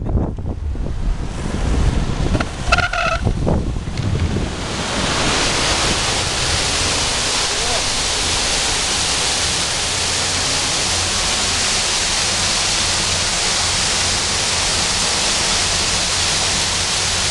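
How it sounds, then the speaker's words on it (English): A waterfall feature at a skatepark during a winter Sunday skate session, heard as a steady, loud broadband roar of rushing water filling the whole clip, with some rumble and wind-like buffeting near the start. "Oh, waterfall is open."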